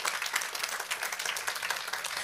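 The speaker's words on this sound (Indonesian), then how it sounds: "Boleh saya dengar tepuk tangannya yang paling meriah buat Yesus Tuhan kita?" Church congregation clapping enthusiastically during a sermon, a brisk, dense burst of many hands applauding close by.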